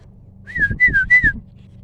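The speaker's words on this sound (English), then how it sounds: "do you hear the birds whistling?" Birds whistle outdoors by a hanging tree, giving three clear, loud, closely spaced whistled notes, each sliding up and then down, with soft low thumps beneath and no talk.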